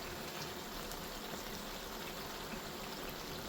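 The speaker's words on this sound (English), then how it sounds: "That's been on a gentle simmer, the oil's starting to split." Butter chicken gravy on a gentle simmer in a pan, oil starting to split, giving a steady dense bubbling hiss throughout with no talk.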